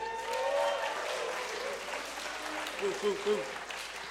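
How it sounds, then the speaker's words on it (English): An audience at a bluegrass concert breaks into steady applause, dense clapping throughout with a few whooping cheers near the end and a voice speaking over it. "How about a round of applause"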